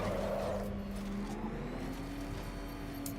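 A video game car engine hums steadily at close range, its tone slowly rising as it accelerates, with no voices over it.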